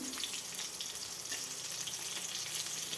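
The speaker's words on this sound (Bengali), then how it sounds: "আর এইদিকে দেখো পটল ভাজা এখন হচ্ছে" Slices of pointed gourd (potol) fry in a pan, giving a steady, close hiss of sizzling oil with small crackles throughout and no voices.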